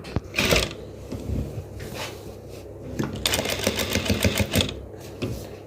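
A sewing machine stitches fabric for a crop top in bursts of rapid mechanical chatter, close and fairly loud, pausing briefly between runs.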